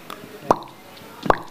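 Water dripping into a bucket in a bathroom, imitated with the mouth on a talent show: two distinct hollow plops about a second apart, close and fairly soft, over a quiet background.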